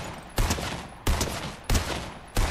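Four sharp, loud bursts of automatic gunfire from a Fortnite match come at roughly even intervals, each one decaying quickly before the next, with no talking over them.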